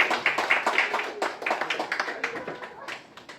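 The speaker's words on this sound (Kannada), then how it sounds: "ಒಂಜಿ ಜೋರೈನ ಚಪ್ಪಾಳೆ ಬರಡು" An audience at a Tulu drama event in Dubai claps in brisk, uneven bursts, close and fairly loud, with a voice over the clapping.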